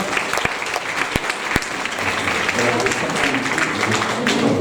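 An audience at a conference applauds, dense and loud clapping sustained throughout with a few sharper individual claps standing out near the start.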